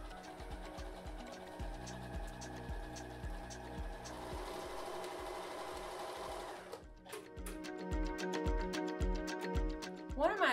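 A Horizon Memory Craft 9480 QCP sewing machine stitches in a steady mechanical whir with rhythmic needle clatter, close and even, then shifts to a brighter, faster ticking stitch pattern partway through.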